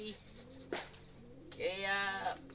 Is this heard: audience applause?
no